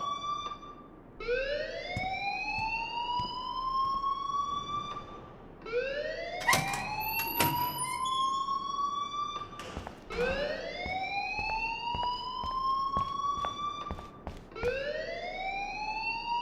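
An alarm in the Life is Strange video game wails in a rising, siren-like sweep that repeats about every four seconds, loud and steady with no voices.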